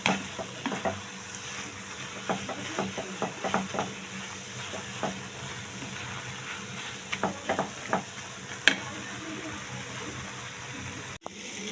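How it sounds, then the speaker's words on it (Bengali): Grated carrot halwa fries in a pan, a soft continuous sizzle broken by repeated scraping stirs of a spoon, with a couple of sharper knocks near the end; no speech. "আমি এটাকে অনেক ভাজা ভাজা করে দিয়েছি যাতে কাঁচা কাঁচা গন্ধ না থাকে আর ভিজা ভিজা না থাকে"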